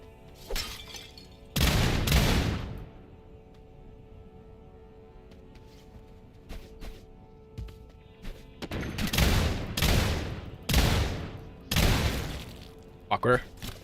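Gunfire in the shooter game SULFUR comes in several loud bursts of rapid shots with sharp breaking impacts, spaced by quieter stretches of game ambience.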